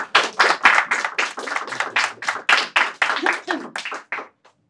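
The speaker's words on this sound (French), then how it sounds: "Il y aura un applaudissement pour partager ça avec nous." A room full of people at an intercultural choir event applauds, a steady patter of many hands clapping for several seconds before tapering off to a few last claps.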